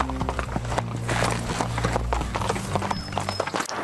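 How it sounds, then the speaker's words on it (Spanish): Horse hooves clip-clop in a steady rhythm, close and fairly loud beneath a continuous low musical drone, with the faint hint of a voice, in a Mexican film scene. "Espérate, ahorita te traigo tu caballo."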